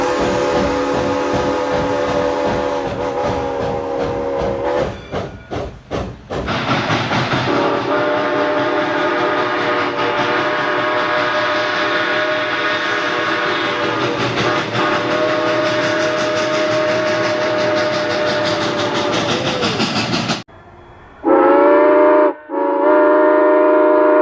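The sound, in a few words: real-life steam locomotive whistles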